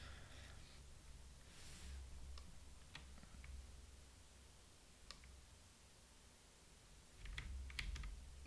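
Quiet, close computer keyboard typing during programming work, a few scattered keystrokes and clicks spread over several seconds with a short burst of quick taps near the end, no voices.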